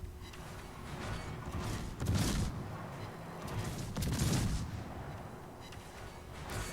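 A naval gun salvo from the cruiser Edinburgh in World of Warships rumbles out as two heavy booming bursts a couple of seconds apart over a continuous low engine and sea drone.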